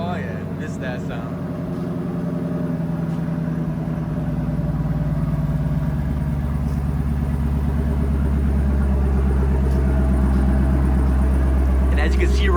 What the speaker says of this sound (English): It's been about a month since I started her, so let's get a nice cold start for you guys